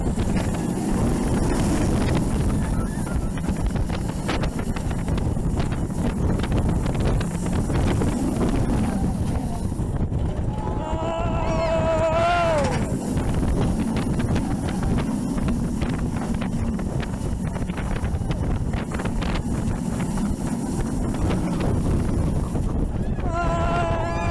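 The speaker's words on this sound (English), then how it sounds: "You're hitting speeds of 95 miles an hour on this." Loud, constant wind roar buffets the microphone on a B&M roller coaster racing at up to 95 mph, with a rattling track rumble underneath and a brief squealing whine partway through.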